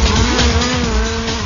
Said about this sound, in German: Streng genommen sind es Kartengeräte, die hier ferngesteuert über die Rennstrecke jagen.